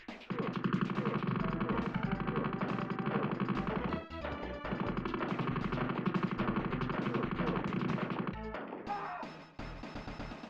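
Rapid, dense gunfire from guns in the Shadowrun SNES game, a loud continuous rattle of chiptune-style shots that runs almost unbroken, with a brief dip near the middle and another near the end.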